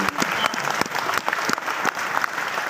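Audience applause at a seminar in Jaunpur, a dense crowd clapping steadily and close for the whole stretch, with no talking over it.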